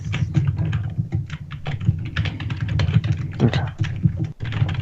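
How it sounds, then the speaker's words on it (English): Rapid computer keyboard typing clatters close by, a continuous stream of quick, irregular key clicks with no pauses. "Who's typing? Who's typing? That's me."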